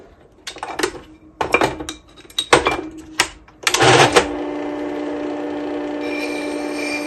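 A wood-carving tool is drawn with light pressure across the finer side of a sharpening stone. Several short, close scraping strokes come in irregular bursts, then one longer stroke, before a faint steady hum remains.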